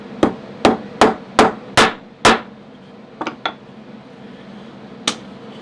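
Nails hammered into old pallet boards while building a box: six loud, sharp strikes in steady rhythm, then a couple of lighter taps and one final blow, close up with no talking.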